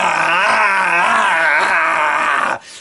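A person roars like a tiger to vent anger, a single loud, strained, growling cry sustained for over two seconds before breaking off. The voice imitates a tiger's roar.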